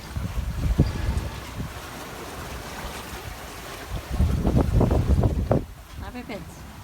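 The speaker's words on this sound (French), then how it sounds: "Regarde les vagues." Ocean waves wash and slap against a moving boat at sea, with bursts of surging water over steady wind rumble, moderately close and fairly soft.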